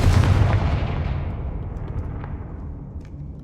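A Confringo fire spell blast in Hogwarts Legacy, heard as one heavy booming explosion up close, its rumble and crackle slowly fading over a few seconds with nothing else around it.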